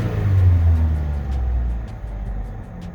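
A 2008 Chevy Cobalt engine idles up close in a steady low rumble, the tone shifting slightly as it runs, with no voices over it.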